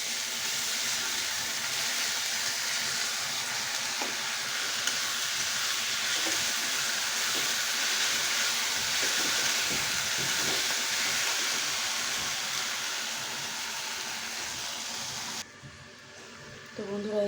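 A spice paste of ginger, garlic, chili and cumin sizzles in a hot pan with a loud, continuous hiss that cuts off abruptly near the end.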